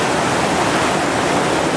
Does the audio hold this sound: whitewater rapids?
yes